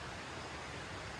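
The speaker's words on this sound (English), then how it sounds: "the sound of the river." A river rushing near Cascade Mountain in Banff: a steady, dense broadband roar of flowing water, constant and fairly close, with no voices over it.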